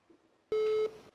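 A phone line gives a single steady electronic busy-tone beep of about a third of a second, clear and loud against a quiet background.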